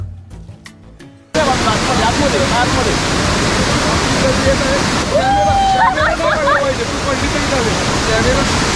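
Bhuvan Waterfall in the jungle near Kolad, Raigad, pours with a heavy flow, a loud, constant roar of rushing water that bursts in abruptly after a brief quieter moment, with voices and shouts faintly over it.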